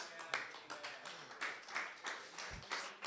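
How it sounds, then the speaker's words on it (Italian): Applause from a conference audience after a talk on breaking Signal's security model, a quiet, distant patter of many hands clapping with irregular peaks, steady throughout. "un altro applauso per cortesia"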